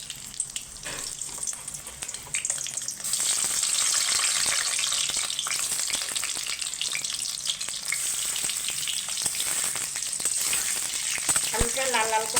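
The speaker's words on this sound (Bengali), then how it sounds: "এবার আলুটা ভাজার জন্য আমি কড়াইয়ে তেল গরম করতে দিয়ে দিয়েছিলাম। এবার আলুটাকে আমি" Potatoes fry in hot oil in a wok, a continuous close crackling sizzle that swells louder after a few seconds, with occasional utensil clinks and scrapes.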